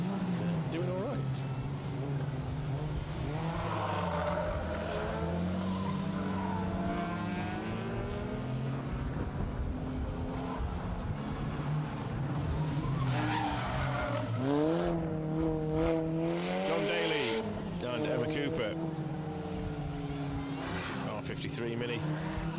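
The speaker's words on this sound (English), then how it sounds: "Lots of tyre squeal for these minis all day." Mini rally cars, including an R53 Mini, squeal their tyres through a hairpin at a circuit rally stage, with engines revving and tyre screeches rising and fading under steady commentary.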